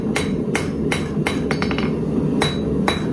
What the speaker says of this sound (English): Hard strikes at the beginning, gentler strikes at the end.